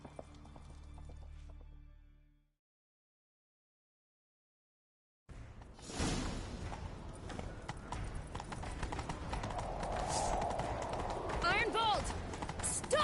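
Horse hooves gallop in rapid clip-clop rhythm in The Witcher 3: Wild Hunt after a brief silence, joined by game music, shouting voices and a whinny.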